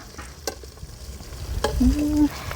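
An egg frying in a pan gives a soft sizzle with a few sharp clatters of utensil on metal, followed by a brief whistle-like squeal near the end; no speech is heard.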